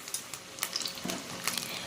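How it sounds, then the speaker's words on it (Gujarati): Soft sizzling of bread-crumb vegetable snacks deep frying in oil over medium flame, with a few light clicks and taps scattered through the short stretch; no voices. "બંને સાઈડ પલટાવતા જઈ ગોલ્ડન બ્રાઉન થાય ત્યાં સુધી આપણે તળી લેવાના છે"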